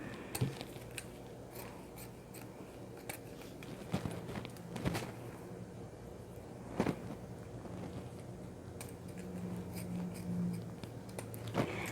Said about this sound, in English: I want to trim the tails a little bit. So I'm just going to cut them.